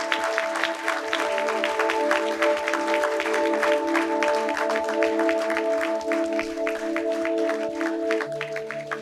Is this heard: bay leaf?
no